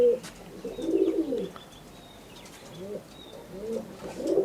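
A Madrasi pigeon coos nearby in several rolling bursts, the low throaty calls rising and fading across a few seconds, with no speech.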